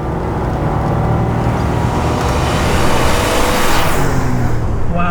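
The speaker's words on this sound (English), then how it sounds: "Driving it out here on the road hasn't really unlocked the full potential of this Pajero Evolution." A Mitsubishi Pajero Evolution, a rare rally-bred 4x4, driving on a road, its engine droning loud and close with a steady rising pull, some wind and road roar, no talk.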